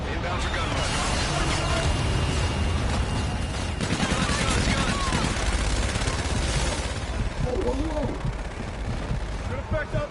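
Loud, sustained automatic gunfire from an aircraft gun run in Call of Duty: Infinite Warfare rattles and booms without a break, with radio voices talking over it.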